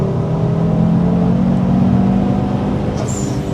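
A 550bhp Ford Focus RS with a turbocharged engine, rebuilt BC Racing dampers and a 4WD conversion, rumbling at a steady, loud idle with a slight rise in revs near the end, heard close up with no talking.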